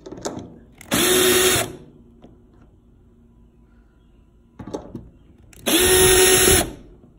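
Cordless power drill backing screws out of a Samsung front-load electric dryer panel, two short whirring bursts a few seconds apart, close and loud, with quiet handling noise between them.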